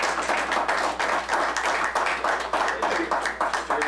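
Loud, close clapping fills a city commission meeting room, a dense burst of many hands applauding steadily over a low electrical hum.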